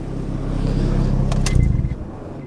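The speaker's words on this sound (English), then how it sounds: "let me get a sound clip of the exhaust real quick. Again, it kind of has a burble. Oh, it's idling." An Acura Integra exhaust burbles at idle up close, a low, uneven rumble that fades away as the engine shuts off.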